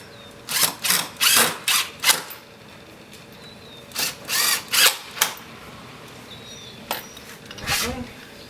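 A power drill drives a screw into the frame of a cubmobile being built, with repeated short bursts of whirring close by that come in clusters separated by pauses, and a voice speaks briefly between them.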